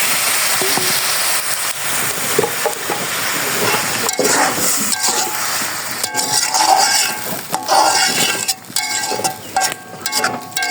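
Water is poured into a hot pan of fried spices, setting off a loud rushing hiss and sizzle that rises and falls in bursts close by.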